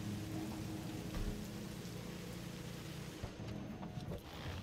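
Rain in the video game Cyberpunk 2077, a steady dense patter of rain on hard surfaces filling the scene evenly, with faint low rumbling beneath and no talking.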